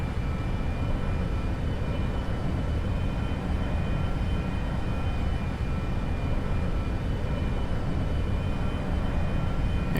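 Steady engine drone of a plane taxiing on light throttle in the X-Plane 11 flight simulator, loud and even throughout with a thin whine riding above the rumble and no talk.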